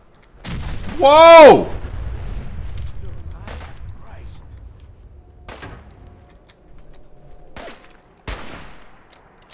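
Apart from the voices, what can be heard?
gunfire in Fallout 4 video game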